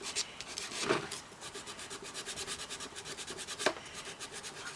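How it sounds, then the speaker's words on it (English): Steady, rhythmic rasping of sandpaper rubbed back and forth to remove paint from a doll, close and fairly quiet, with a couple of sharper scrapes. "I just start sanding right in this area. I'll sand and get the paint off."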